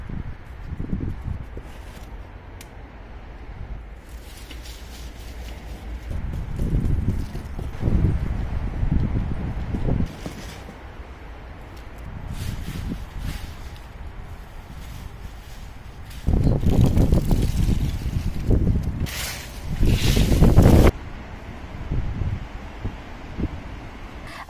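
Outdoor wind gusting where a tablecloth is hung to dry, with rustling and microphone buffeting that swells in stronger gusts, moderate and uneven.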